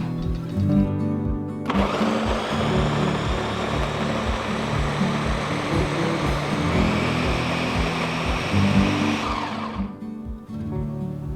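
A countertop blender whirs steadily at full power, pureeing chunky fermented hot sauce with brine and vinegar, a loud continuous grinding drone that starts after a brief pause and cuts off near the end.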